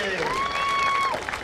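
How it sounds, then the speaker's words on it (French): A crowd applauding steadily at a 2.5-litre hydroplane racing final in Valleyfield, with a voice speaking over the clapping and a long sustained tone cutting through the middle. "On applaudit encore une fois."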